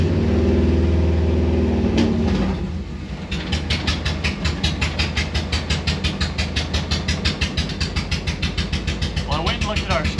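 A Subaru engine fitted in a 1974 VW Bus idles close by. A steady running drone is followed by a rhythmic pulsing chug with regular beats as the idle hunts, and voices come and go over it.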